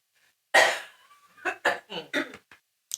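A single loud, close cough bursts out, followed by a few quieter coughing or laughing sounds tapering off.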